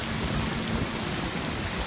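Steady rain pours down on a flooding city street in Mid-City near Canal and Jeff Davis, a dense, even hiss of drops on water and pavement with no voices.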